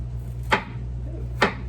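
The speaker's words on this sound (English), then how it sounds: "Okay, so I'm chopping up my ginger." Two crisp knife chops on a cutting board, about a second apart, as ginger is chopped finely, each hit sharp and close over a steady low hum.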